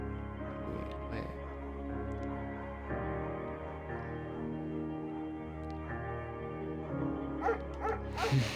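A dog in Firewatch barks and yips in short bursts over a steady musical drone, fairly close, with a few sharper barks near the end.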